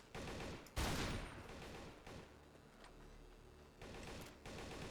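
AA12 automatic shotgun fired in the video game Darkest Days: a quick burst of loud blasts with one heavy boom, then a few scattered shots trailing off, no speech.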